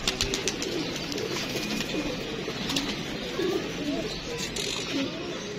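Pigeon cooing in soft repeated low phrases among bird calls, close by, with a steady background bed and no talk over it, as a bird is handed up for release by a pigeon keeper.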